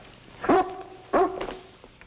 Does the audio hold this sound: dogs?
yes